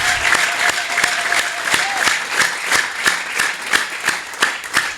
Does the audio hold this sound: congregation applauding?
yes